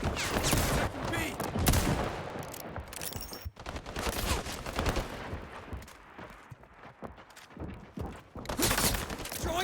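Rapid gunfire and bursts of shooting fill a match of the video game Highguard, loud and continuous with dense game effects, a brief pause midway and heavier firing toward the end.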